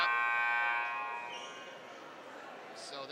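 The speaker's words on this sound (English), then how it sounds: "So there's the buzzer." A high school boys basketball game buzzer sounds loud and steady at the start, then cuts off, leaving gym ambience with faint crowd noise and brief squeaks.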